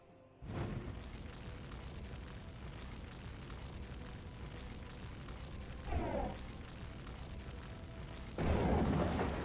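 Artillery fire in the strategy game Warhammer: Dark Omen, heard as a loud boom, then a softer mid-clip burst and a heavier blast near the end, all over a steady battlefield hum.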